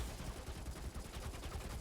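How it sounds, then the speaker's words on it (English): A video game character's minigun fires at full speed, a dense, steady stream of rapid shots forming a continuous rattling roar that stays even throughout, heard alone without talk. "his minigun goes that way."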